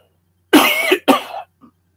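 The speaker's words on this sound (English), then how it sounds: "excuse me, I've got a cough." Two sharp, loud coughs close to the microphone in quick succession, followed by a tiny faint throat sound, in an otherwise quiet room.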